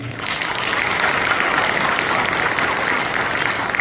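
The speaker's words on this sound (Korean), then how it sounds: "따뜻한 응원의 박수 부탁드립니다" Steady applause from a crowd at a farm cooperative chairman's inauguration ceremony in Nampyeong, Naju, a dense, even wash of many hands clapping without a break, fairly loud and close, with no talk over it.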